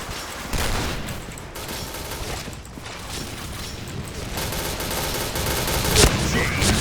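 Rapid bursts of shotgun and automatic gunfire in the online shooter Point Blank, dense and continuous with a sharp shot near the end, while a man mutters faintly underneath.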